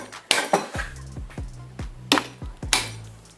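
A mallet strikes an engine stud, giving about six sharp, ringing metallic blows at an uneven pace, close and loud with no talking.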